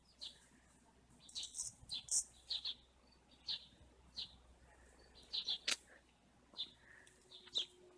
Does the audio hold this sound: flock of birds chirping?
yes